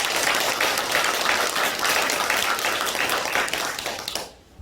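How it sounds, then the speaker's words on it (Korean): A church congregation claps together in steady, dense applause for about four seconds, then fades out near the end. "너무 감사해서 그래서 박수 한번 드리겠습니다."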